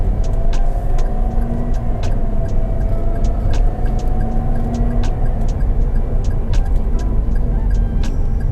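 A Toyota Veloz driving through city traffic and making a U-turn, with a steady close engine and road rumble, a faint tonal whine, and occasional ticking, like an indicator, throughout.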